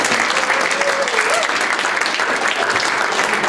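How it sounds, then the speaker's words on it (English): A crowd in a synagogue hall applauds volunteers at a comedy show, steady and loud clapping throughout, with a faint voice briefly audible beneath the applause. "How about a volunteer for all of the volunteers? A round of applause."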